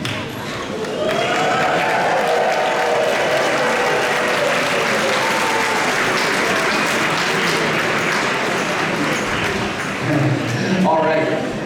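Loud crowd cheering and clapping at an outdoor Tuba Christmas concert in Columbus, a dense steady roar that runs almost the whole time with a few whoops rising above it.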